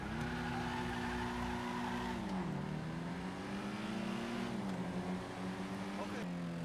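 A hatchback car in GTA Online driving with a steady engine drone whose pitch dips and rises as it shifts and changes speed, a faint rattle riding over it, with a voice talking over the drive.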